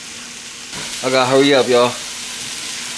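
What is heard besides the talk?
vegetables frying in a pan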